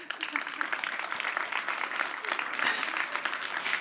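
Steady crowd applause at a campus showcase awards ceremony, dense and even, with a faint voice underneath.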